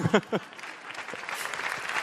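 Audience applause at the Pantene Golden Butterfly Awards 2015 ceremony, a short burst of clapping from a crowd rising after a brief spoken phrase and continuing steadily, moderately loud.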